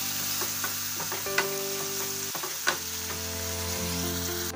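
Cumin powder, coriander powder, poppy seed paste and green chili fry in a pan for Bengali mullu tangra, sizzling steadily up close while a spoon scrapes and knocks against the pan a few times.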